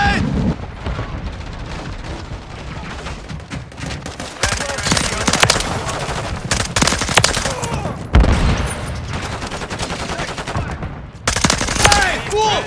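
Rapid machine-gun bursts and single gunshots fill a Call of Duty Modern Warfare 3 multiplayer match on the Terminal map. Sharp, loud blasts, including a grenade, keep cracking almost without pause.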